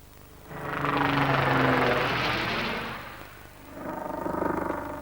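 A Lynx combat helicopter flies past with a loud droning engine and rotor roar that swells, dips briefly, then builds again, heard at moderate distance.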